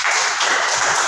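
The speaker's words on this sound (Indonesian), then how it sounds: "Tepuk tangan buat kelompok 3." A classroom gives group 3 a burst of applause, many hands clapping together in a dense, close, loud wash that lasts only about a second.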